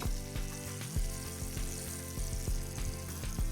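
Black cod fillet sears in butter in a hot pan with a steady close sizzle, broken by a few sharp knocks over a humming background, and no one speaks.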